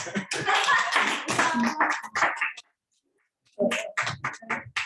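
Party guests burst into applause in two loud, close rounds of clapping separated by a brief silent pause.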